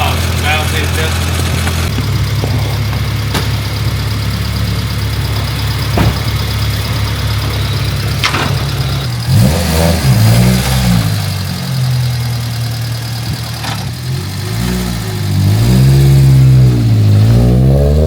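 Honda B18 engine in an EF wagon, with bad, noisy valves, idles loudly with a rattly valvetrain and then revs up and down in several rising and falling pulls, while people talk over it.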